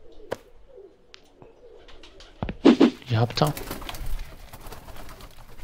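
Pigeons coo in the video game Randal's Monday, soft bird calls and a burst of fluttering sounds over ambient game noise, with someone briefly speaking in German.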